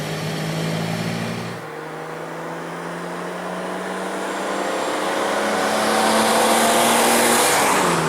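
A 1965 Austin-Healey 3000 with its large-capacity engine pulls hard under acceleration, its loud, close exhaust note climbing steadily, dropping briefly as it shifts, then rising again toward a strong roar.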